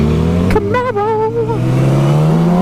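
A Chevrolet Camaro revs loudly nearby on a road, its engine note climbing and holding in a steady roar for a couple of seconds before settling back.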